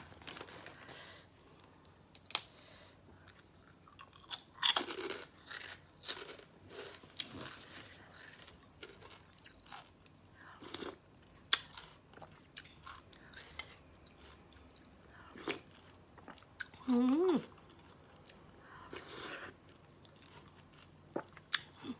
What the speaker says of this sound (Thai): เนี่ยเคี้ยวได้นะแคบหมู